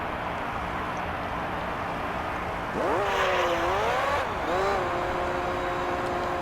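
A race car in Gran Turismo 3: A-Spec on its out lap after a pit stop, the engine note climbing and falling through gear changes, loud and steady against a constant background drone.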